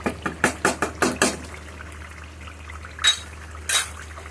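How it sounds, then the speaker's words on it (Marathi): Paneer pieces drop into gravy in a pan one after another, each landing with a sharp clink, in a quick run of about eight. Two more louder clatters follow after a pause. "आता आपण यात पनीर टाकून घेऊया."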